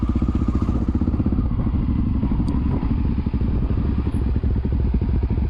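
A dirt bike engine drones steadily and close while riding on a worn Tusk D-Sport tire through a national forest, with a constant throbbing rumble and light clatter and no talking.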